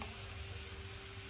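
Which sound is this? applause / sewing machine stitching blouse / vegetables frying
vegetables frying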